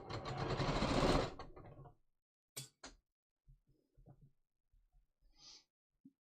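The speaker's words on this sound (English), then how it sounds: "Let me just sew this other side so we can compare." A sewing machine stitches a seam in Japanese woven cotton shorts, a close, steady run of fast needle chatter for about two seconds that stops abruptly, followed by a few small clicks and a quiet sigh in near silence.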